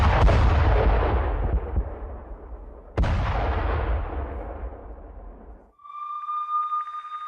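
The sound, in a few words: Russian missile and bomb strikes on Ukrainian army positions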